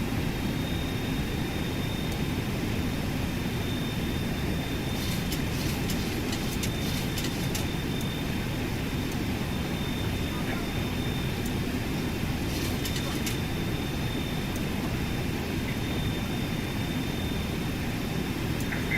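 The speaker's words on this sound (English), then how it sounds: "that was some juicy takeoff right there" A FlyJSim Boeing 737 in a flight simulator rumbles through its takeoff, a loud, steady broadband engine roar with a faint high whine above, continuous and close throughout.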